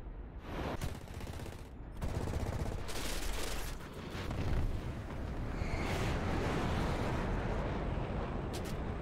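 Heavy fighter jet cannon fire rattles in long, rapid, continuous bursts, loud and dense, with brief gaps between volleys.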